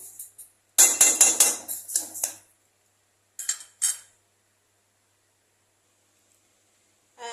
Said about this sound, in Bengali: বাড়িয়ে দিয়ে কন্টিনিউ এটাকে একটু নাড়তে থাকবো যাতে এটা তলায় লেগে না যায়